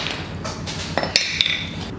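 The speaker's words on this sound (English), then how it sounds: "I'm gonna whack Lilith hard with this hammer and we're gonna see if she breaks" A hammer strikes a 3D-printed figure made of eSun tough resin, giving several sharp clinking impacts with bright ringing over a steady background hiss.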